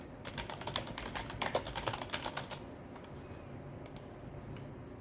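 Fingers tap rapidly on a computer keyboard while entering tax-filing details, a close, quiet burst of crisp clicks that slows to a few scattered keystrokes.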